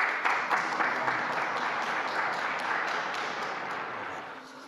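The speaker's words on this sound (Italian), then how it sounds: "Un applauso ai prossimi nuovi santi." Crowd applause filling a large space during a Jubilee announcement of new saints, dense and steady at moderate volume, then gradually fading toward the end.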